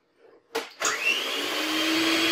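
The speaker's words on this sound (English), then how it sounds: "Make sure your mixer is off before you plug it in." Electric hand mixer switching on in a kitchen for baking donut batter, a couple of sharp clicks then a loud, steady motor whine that builds and holds without pause.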